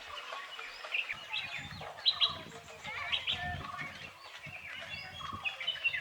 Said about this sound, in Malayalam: ഫുൾ ടൈം കിളികളുടെ ശബ്ദമൊക്കെ ആയിട്ട് നല്ലൊരു ആംബിയൻസാണ്.